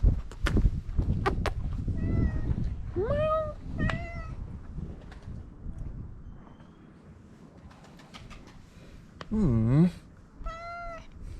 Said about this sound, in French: Puis il y a plein de petits chats.